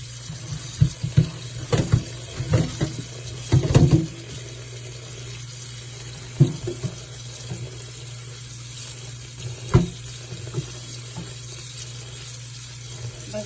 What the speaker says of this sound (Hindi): ठंडा पानी में हम इसके ऊपर खोल देते हैं